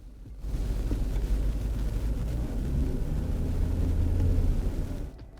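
A car engine is revved up while a budget OBD2 scan tool reads its data, a close, steady low rumble that swells after a quiet start, holds and builds slightly, then drops away at the end.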